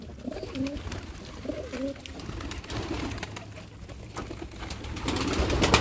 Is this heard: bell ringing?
no